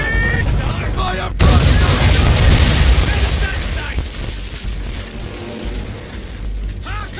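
A ship's cannons firing a broadside in the video game Assassin's Creed III: a sudden loud boom followed by a long rumbling decay, with shouting voices and game ambience around it.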